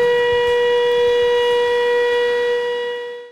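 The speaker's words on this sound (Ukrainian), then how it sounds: "природну красу перериває сирена – знак загрози влучання російських ракет" Air raid siren warning of a Russian missile threat in the Kirovohrad region of Ukraine, a loud steady wailing tone held throughout and heard alone before it fades slightly at the end.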